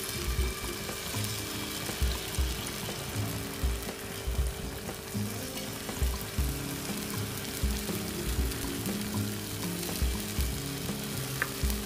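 Ragi and pearl millet appam batter fries in a pan with a steady, close hiss and sizzle, marked by soft regular low bubbling pops throughout, with no one speaking.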